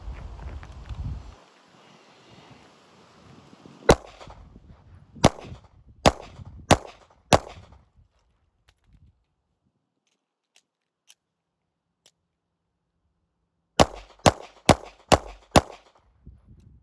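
Pistol shots from a Glock 19 clone on an outdoor range: a quick string of five sharp, loud cracks, a pause with faint clicks during a magazine change, then another rapid string of five shots.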